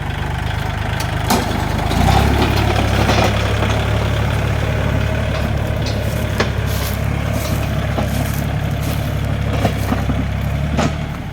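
A tractor engine runs steadily throughout, a loud, close, low rumbling drone with occasional faint clanks over it.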